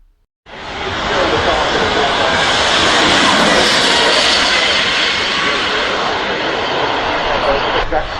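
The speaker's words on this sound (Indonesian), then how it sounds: "suaranya itu bernada tinggi, mirip desingan suara pesawat jet yang lagi lewat di atas langit" A loud, sustained high-pitched whine from the fan of a McMurtry Spéirling car starts abruptly and holds steady, like a powerful fan or turbine spinning at speed.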